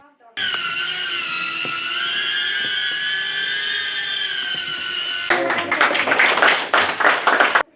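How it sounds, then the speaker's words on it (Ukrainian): Small training drones fly in a school classroom, their propellers giving a steady high-pitched whine close by for several seconds before it cuts to a burst of clapping and crowd noise. "Діти продемонстрували своє вміння керувати навчальними безпілотниками"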